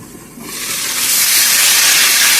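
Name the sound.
chicken browning on low flame in covered pot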